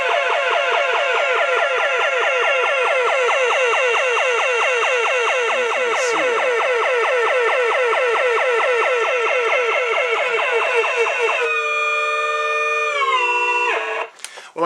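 A 1978 South Bend Electronic Starship Enterprise toy emits a rapidly warbling electronic tone whose pitch climbs steadily as its dial is turned up, then steadies into a higher sustained tone before cutting off in a few abrupt bursts near the end.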